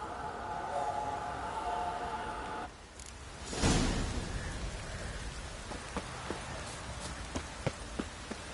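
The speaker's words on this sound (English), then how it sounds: "This downpour's a bastard, it is." Heavy rain pours down in The Witcher 3, a steady, dense hiss of falling water that fills the whole clip, with a brief whooshing swell in the middle and scattered sharper drop impacts toward the end.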